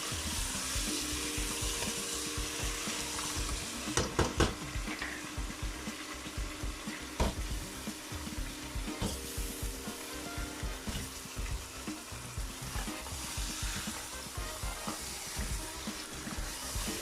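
Beef trotters (paye) sizzling and frying in a pot while being stirred, a constant loud sizzle with occasional clanks of a spoon against the pot and water-like bubbling, with no talk.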